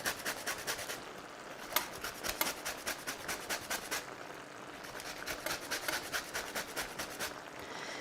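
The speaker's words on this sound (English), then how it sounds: "We are going to add some lemon zest into here now." Lemon rind being zested for a tagine, a quiet, steady rasping scrape repeated in quick strokes with short pauses, close up and without talk.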